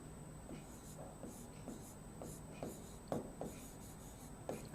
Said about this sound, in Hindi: अब हम यहां पर कॉपी में लिखेंगे